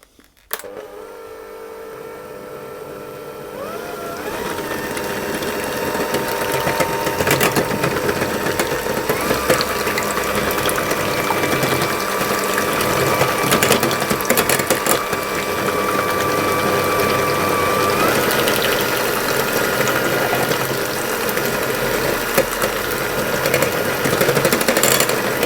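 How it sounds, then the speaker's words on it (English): An electric mixer whisks cream and sugar toward thick peaks, running continuously and close for the whole stretch, a steady mechanical whir with a rattling texture and subtle shifts in pitch. "I'm just going to give it one last little whisk."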